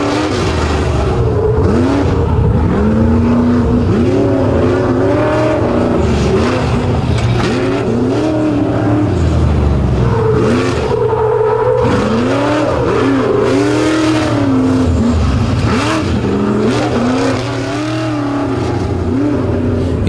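An off-road race truck at a jump track event drives hard, engine revving and dropping repeatedly as it climbs and lands, loud and continuous with a low rumble beneath.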